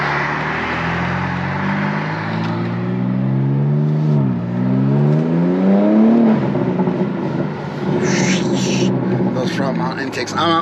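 A car engine with front-mount intakes revs up and down repeatedly with a throaty intake roar, loud and close, with some talking mixed in.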